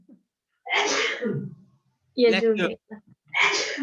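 A single sharp sneeze in a room during a question-and-answer session, followed by nearby conversational speech.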